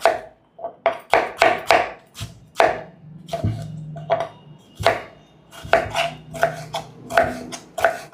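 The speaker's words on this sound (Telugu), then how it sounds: "ఇప్పుడు 2 పెద్ద సైజు టమాటాలని కూడా వీలైనంత సన్నగా కట్ చేసుకుందాం." A knife thinly slices two large tomatoes on a cutting board in a home kitchen, making close, crisp strikes in quick rhythmic bursts with short pauses between runs. No one speaks.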